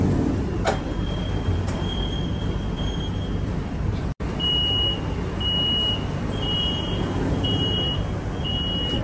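A Guangzhou Metro Line 7 subway train runs underground with a loud, steady rumble of wheels and a repeating high pitched tone, and a brief dropout partway through.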